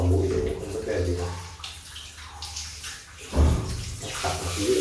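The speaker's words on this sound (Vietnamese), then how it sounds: "Xịt nước nhẹ để nó không bị bắn nước vào mũi với lại vào tai" Water sprayed gently from a shower head while bathing a Rottweiler, a soft hiss and splash that rises and falls, with someone talking over parts of it.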